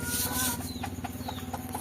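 Soft, low clucking from a chicken, several short notes in an uneven rhythm, fairly faint against a low background hum.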